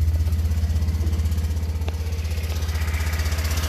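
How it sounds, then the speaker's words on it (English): BMW Isetta engine idles steadily nearby, a fast, even low putter with a regular pulsing beat and no talk over it. "Oh, this thing's running good."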